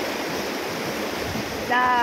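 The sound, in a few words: water flowing in a stream after heavy rain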